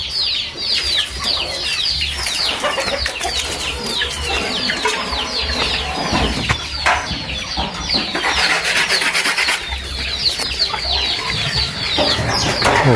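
A flock of chickens clucks and squawks continuously nearby, overlapping calls filling the scene with occasional wing flaps, no talking.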